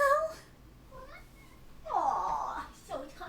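A tiny cat giving a few short, high squeaky meows close by, with a brief pause and then a louder drawn-out one, while a person talks in between.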